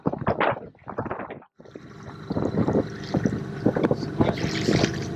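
A sailboat's engine runs in shallow water off Cayo Zaza, Cuba, a low droning chug mixed with heavy wind buffeting the microphone and water splashing, steady and close throughout.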